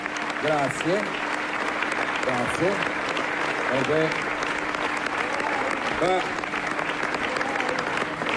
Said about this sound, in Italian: fate un applauso a quei matti che hanno 3, 4, 5 figli